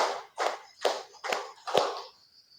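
Five sharp hand claps in a steady rhythm ring out in a classroom as part of a group clapping game, close and distinct with brief silent gaps between them.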